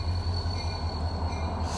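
A freight train rumbles steadily through switching moves on a rusty, little-used passing track, with a continuous low mechanical drone and a faint high steady tone above it, close and unbroken for the short stretch with no talking.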